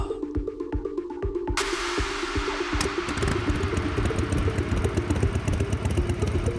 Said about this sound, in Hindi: अपनी बाइक पार्क की